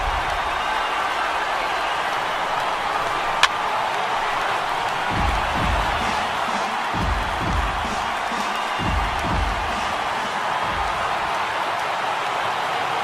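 Stadium crowd noise in the MLB The Show 18 baseball game, Phillies at Marlins: a steady murmuring roar with a few rhythmic bursts of cheering and clapping, one sharp click near the start.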